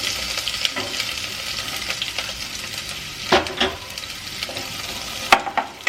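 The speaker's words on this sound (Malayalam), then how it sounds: "നല്ല ഒന്ന് വഴറ്റിയെടുക്കണം." Chopped onion, ginger, green chillies and curry leaves sauté in a pan for a Kerala-style stew. A close, steady sizzle is broken by sharp scrapes and clinks from a stirring spoon.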